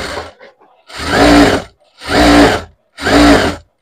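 A sewing machine runs in three loud, steady bursts of roughly a second each, with short pauses between, as it stitches along the lining of a blouse.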